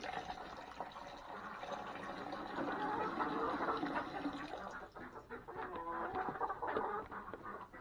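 Hens on a homestead cluck and murmur around their nesting boxes, a busy, fairly quiet jumble of calls with rustling and faint background noise.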